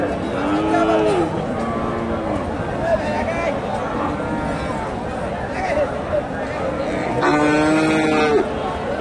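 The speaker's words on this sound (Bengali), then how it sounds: "এখানে অনেক সুন্দর একটা ষাঁড় গরু দেখতেছি" A Friesian bull lows several times, deep drawn-out moos over a noisy cattle market crowd with people talking nearby.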